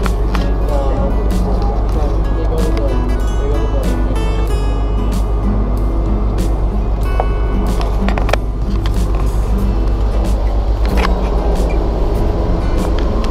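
A school bus rumbles along, heard from inside, with a constant low engine drone and frequent rattles and knocks, while passengers chatter over it.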